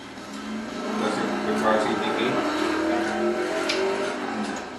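A 1968 Chevrolet Camaro Z/28 with its high-revving 302 V8 drives past with a steady engine roar that rises and holds, heard under a narrator's voice.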